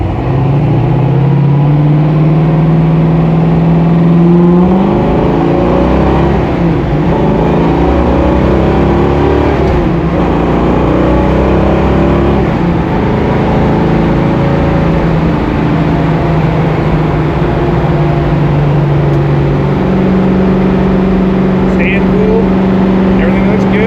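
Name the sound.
1967 Ford Fairlane driving on highway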